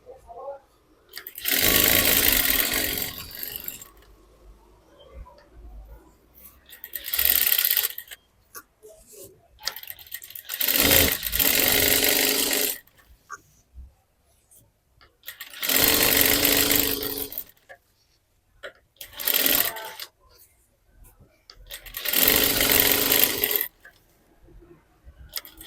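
Sewing machine stitching blouse fabric, running in five or six separate bursts of a few seconds each with quiet pauses between, close and fairly loud; someone speaks softly in some gaps while folding and stitching the blouse back design.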